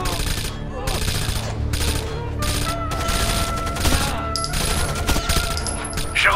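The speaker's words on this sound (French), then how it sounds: "Ça tire, mais je ne sais pas d'où." Bursts of automatic rifle fire in Rainbow Six Vegas, loud and close, coming in repeated rapid volleys with brief gaps and a few scattered single shots, the clatter continuing throughout.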